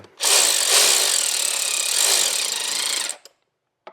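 A power tool runs continuously for about three seconds to tighten a fastener hard on a Buick Encore, a loud, steady whirring buzz with no talking, then cuts off abruptly.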